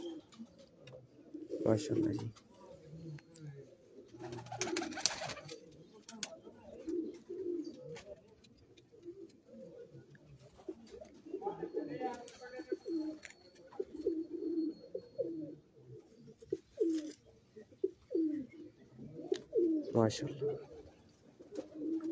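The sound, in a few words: Lakha pigeons cooing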